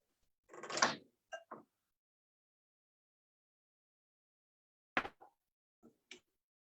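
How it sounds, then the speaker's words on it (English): Sliding cabinet drawers in a house roll open and shut, giving a louder rolling slide near the start, a few short knocks, then another slide and soft bumps after a pause, with no talk. "Okay, so we do have these sliding drawers."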